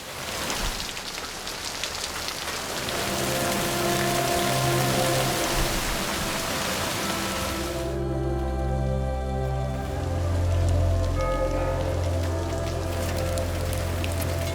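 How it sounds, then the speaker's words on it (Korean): Steady heavy rain pours down in a scene from a Mexican supernatural horror film, a dense hiss of drops that later sits under a low sustained musical drone and tones. "투카가 기적을 맞을 차례라고 말하자 비가 내리는데"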